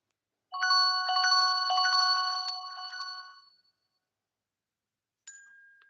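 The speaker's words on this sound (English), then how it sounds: "Someone keeps ringing me" An incoming-call ringtone chimes loud and clear as a bright melodic phrase of electronic tones for about three seconds, fading out; after a pause, a short tone starts again.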